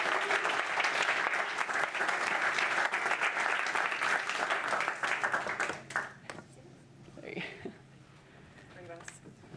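An audience applauds at a talk on organizational change management, a dense burst of clapping that fades out after several seconds as scattered noises and voices follow.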